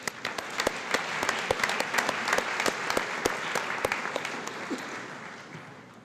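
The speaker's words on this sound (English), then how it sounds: "Let's give them another round of applause." Crowd at a high school awards night claps for award winners, a sustained round of applause with crisp close hand claps standing out, easing off slightly toward the end.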